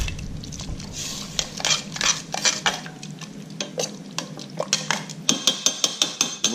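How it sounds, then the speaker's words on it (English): A utensil stirs drained tomatoes into spaghetti sauce in a pan, making close, repeated scraping and clinking strokes over a soft sizzle, with no one speaking. "Now we're going to add those drained tomatoes that we drained earlier. Give them a stir in."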